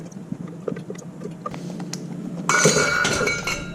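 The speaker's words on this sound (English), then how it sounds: "I'm just going to rake down the sides." A utensil scrapes down the sides of a pot holding roux and hot mushroom puree, for cream of mushroom soup: soft scrapes and light taps, then a louder, bright metallic clinking and scraping near the end, with no voices.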